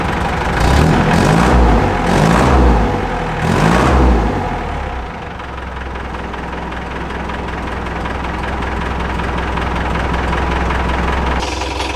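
A car engine fitted with a new seal on its leak settles into a low, steady idle after a few loud revving bursts at the start, close and alone for most of the clip.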